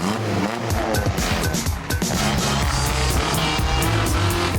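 A car is held sideways in a controlled drift on a test track, its engine roaring loud and close while the tyres squeal continuously throughout.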